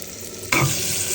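Onions drop into hot oil with bay leaves in a pan while desi chicken with potatoes is being cooked. After a quiet start comes a sudden, loud, close sizzle that holds steady to the end.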